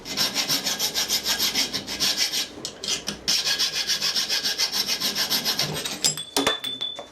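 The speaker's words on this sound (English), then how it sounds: "All I want to do is file the rough edges just to make sure that there's no oil in there." A metal file works the rough edges of a welded drill spindle. It makes loud, close, rhythmic rasping strokes, about three per second, with a brief pause partway through and a faint metallic ring near the end.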